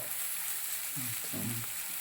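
Prawn curry with coconut bits, Kottayam style, bubbles softly in a clay pot, with a faint low sizzle and a brief stirring scrape near the middle, quiet and close with no talking.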